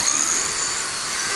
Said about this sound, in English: I'll just drill the rest of the way through.